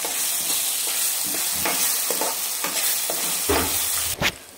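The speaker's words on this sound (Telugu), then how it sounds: "మామిడికాయ తురుము వేసుకున్న తర్వాత కొంచెం వేగిన తర్వాత" Grated raw mango sizzles steadily in a hot pan for mango rice, with a continuous frying hiss broken by several soft scrapes of a spatula stirring it and a sharper clack near the end.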